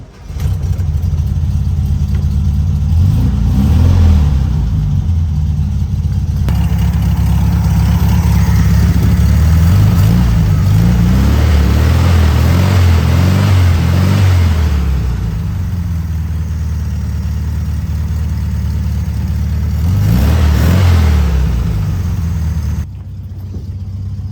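A 1972 VW Beetle's small air-cooled engine runs steadily nearby, idling with a lumpy rhythm and a few brief revs, loud and continuous throughout.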